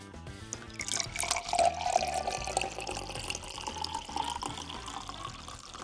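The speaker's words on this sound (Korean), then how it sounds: "캡을 따고 잔에 따르면" Homemade apple sparkling wine, blended from Shinano Gold, crab apple and star apple, pours from an uncapped bottle into a glass, making a steady close liquid splash and fizzing trickle for several seconds with no talk.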